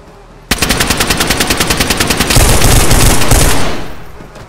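Loud rapid automatic gunfire in the video game DayZ Standalone starts abruptly as a fast even stream of close shots, thickens into a denser burst, then tails off into echoing decay, with no talk.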